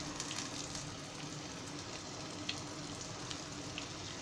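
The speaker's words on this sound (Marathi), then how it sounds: "असं चांगलं पिठामध्ये डुबवून ते असं तेलामध्ये सोडायचे" Batter-coated chicken pieces fry in hot oil with a steady, dense sizzle and crackle, close and continuous, with a few sharper pops scattered through.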